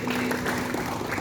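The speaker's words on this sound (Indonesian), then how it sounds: "Tepuk tangan buat Tuhan kita" A youth congregation at a Sunday church service claps for God. The brief burst of applause is dense and steady, with a faint murmur of voices mixed in.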